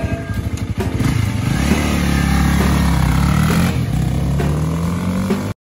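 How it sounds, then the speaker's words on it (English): A 2022 Honda Rebel 500 motorcycle engine runs close by, revving and pulling away with a steady rising drone and rattly exhaust note, loud and continuous before cutting off at the end. "The 2022 Honda Rebel 500 review"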